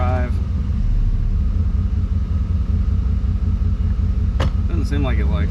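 A 1992 Chevy C1500 Fleetside pickup idles in drive, its engine a steady low rumble that stumbles roughly, with a brief clunk and some talk over it near the end.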